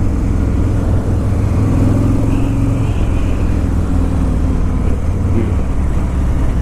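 A 2018 Harley-Davidson Road King motorcycle with crash bars fitted, heard while riding: a loud, steady engine drone and rumble that holds constant throughout with no pauses.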